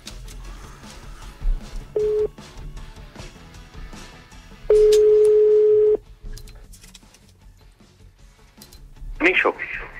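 Telephone tones from a radio morning-show call-in line, a short steady tone followed by a longer, louder sustained beep, mixed among studio talk and background sounds.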